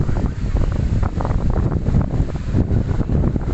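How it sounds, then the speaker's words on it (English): Steady wind buffets the microphone outdoors in Cambodia, a constant low roar and rumble that never lets up. "Kind of windy today. Hope you're not hearing that in the old eardrums there"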